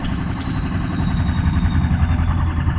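A hay bale truck engine runs under light throttle with cylinders misfiring, producing a loud, close, rough low rumble with an uneven, stumbling pulse and no talking.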